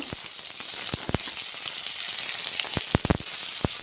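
Chopped onion hits hot oil for a fish curry with raw tomato, sizzling in a bright steady hiss with scattered sharp pops and spatters up close.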